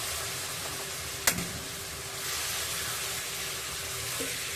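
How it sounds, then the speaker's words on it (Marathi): Fish is added to a hot pan of tempering over a low flame for a Maharashtrian Agri-style fish curry, giving a soft steady sizzle with one sharp clink near the start and no voices. "आता आपण मच्छी यामध्ये घालून घेऊया"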